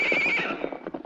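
A horse gives a loud, high neigh that fades, followed by a run of hoofbeats clopping away, in an old western adventure drama set on the frontier.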